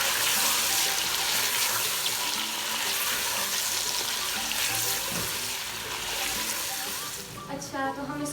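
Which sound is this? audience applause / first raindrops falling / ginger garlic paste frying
ginger garlic paste frying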